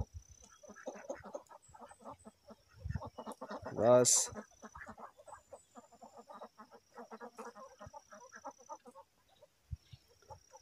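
Ducks on Ganga Lake near Itanagar, a flock giving repeated rapid quacking and cackling calls at close to middling distance, with a louder burst in the middle, while someone talks over parts of it.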